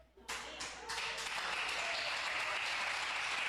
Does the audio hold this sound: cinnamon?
no